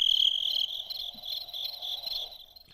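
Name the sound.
crickets chirping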